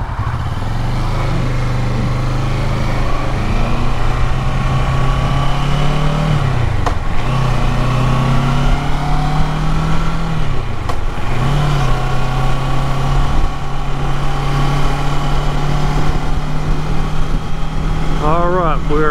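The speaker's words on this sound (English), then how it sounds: "Trying to watch for traffic, ride a motorcycle, and give you guys information" Motorcycle engine while riding through traffic around Cibolo Canyons in San Antonio, Texas: a steady, close mid-pitched drone with gear shifts and rises and dips in revs, loud throughout.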